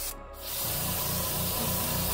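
A steady, broad hiss of spray paint applying a base coat to a plastic model kit runs continuously after a brief quiet start, close and even.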